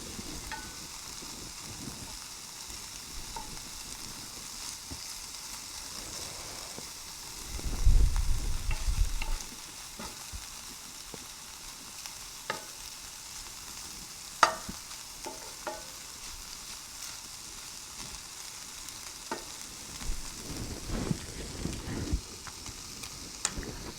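Frozen vegetables spread flat in a stir-fry pan crackle softly, with a louder burst of sizzling about a third of the way in and scattered stirring clicks later.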